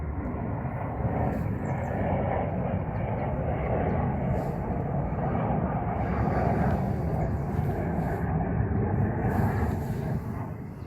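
Airplane passing overhead above an apple orchard, a continuous broad roar that stays steady and loud throughout, heard outdoors from the ground.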